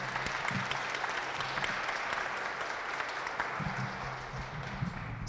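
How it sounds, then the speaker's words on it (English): A conference audience applauds a panel on communications and change in Ukraine, a broad, sustained patter of many hands clapping at an even level from start to finish, with faint murmurs underneath. "why don't you join in giving this panel a round of applause"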